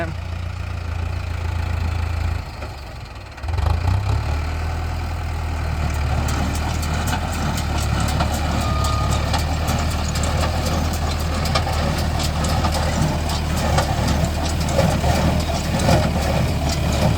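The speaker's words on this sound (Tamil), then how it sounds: "இப்போ இந்த நியூ ஹாலண்டோட சதுரமாக கட்டுற கட்டு வண்டி பாருங்கள், இப்போ கட்டுற ஆரம்பிக்கிறாங்க" A New Holland square baler works in a field behind a tractor, its engine holding a steady heavy drone while the baler adds a rapid rhythmic clatter and knocking throughout, loud and close.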